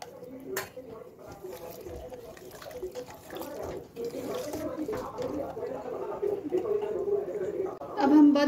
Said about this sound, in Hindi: एक कप पानी ऐड कर लेंगे।